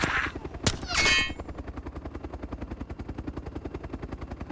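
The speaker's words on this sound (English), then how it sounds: "I got a chopper coming from the north over base." A Mozzie helicopter in a video game, its rotor thumping in a fast, even pulse that continues steadily, opened by a couple of sharp gunshot-like cracks and a brief burst of noise.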